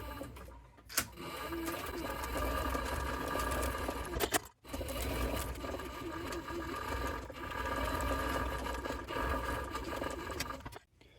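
A sewing machine stitches a leather scabbard for a hunting knife, running in steady continuous bursts with a rapid mechanical chatter, pausing briefly near the start, again midway and at the end, close and fairly loud with no talking.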